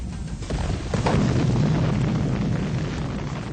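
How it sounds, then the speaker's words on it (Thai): A deep, rumbling boom swells and lingers like a heavy impact of an ice-coated rock colliding with another rock in space, with a dense low roar sustaining throughout. "หินเคลือบน้ำแข็งนี้ในที่สุดก็พุ่งชนกับหินอีกก้อนหนึ่ง"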